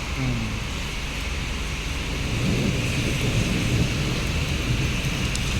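Heavy rain in Riyadh pours down in a dense, unbroken roar, loud and close, with no voices over it.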